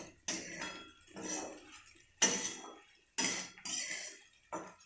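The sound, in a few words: stirring and mixing khichdi in a pot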